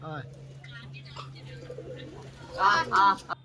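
A pigeon gives a few short, throaty coos near the end over a low steady hum, after quieter murmuring sounds.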